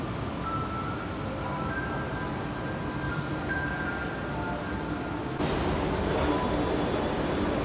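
A metro train waits at a busy Bangalore station on the Whitefield to MG Road line, a steady broad rumble of train and platform noise that swells louder near the end, with no talk.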